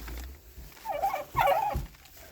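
Turkeys gobbling around new nesting boxes on a homestead, with toms squabbling near the hens; two loud, close warbling gobbles come in quick succession over low rustling.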